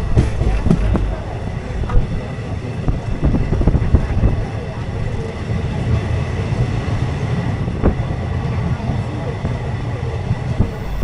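The 13187 Maa Tara Express runs on the Kolkata–Tarapith line, heard from inside a compartment as a loud, continuous rumble with rhythmic rattling and occasional sharp clanks from the wheels on the tracks.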